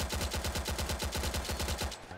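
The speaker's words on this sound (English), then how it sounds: "Why does the Tommy gun have so much recoil, though?" Rapid automatic Tommy gun fire in the video game Combat Warriors, a steady close burst of evenly spaced shots lasting about two seconds before cutting off.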